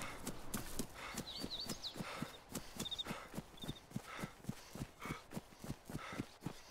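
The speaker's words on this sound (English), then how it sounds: "No, I'm chasing a cow." Hooves from a cow running in the video game DayZ, a steady fast clip-clop of footfalls with faint game chirps over a constant background hiss.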